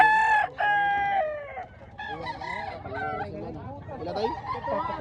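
A rooster at a chicken expo in Mantalungon, Barili, Cebu crows loudly and close, with one long call and then a second. Clucking and bustle from the crowd follow, with chatter in the background.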